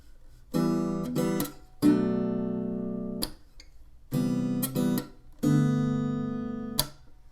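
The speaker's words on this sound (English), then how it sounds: "Now the lead part for the verse and the chorus is going to sound like this." A guitar plays the lead line for the verse and chorus of a song, two matching phrases of plucked notes with held, ringing tones and short pauses between, close and clean with no talking.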